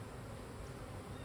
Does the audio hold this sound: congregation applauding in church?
no